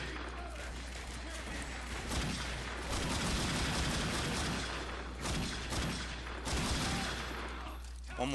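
Dense video-game gunfire from The Darkness 2 crackles in rapid, overlapping bursts, a continuous loud barrage with surges and booms running throughout, with a low steady hum beneath.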